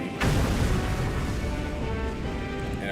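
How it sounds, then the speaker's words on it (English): Booming explosions with dense rumbling crackle from Super Mario Galaxy, starting with a sharp burst and continuing as a loud, sustained roar of blasts. "And of course, explosions for good measure."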